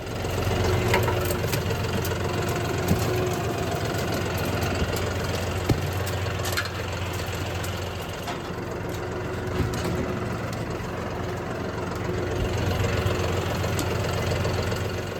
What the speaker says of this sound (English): The John Deere works pretty good for this, but I really need a dozer.